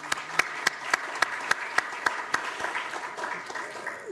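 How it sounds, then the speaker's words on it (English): Conference delegates applaud a speaker in a session hall, a few sharp, evenly spaced close claps standing out over a softer crowd of clapping that fades out. "So another round of applause for Dr."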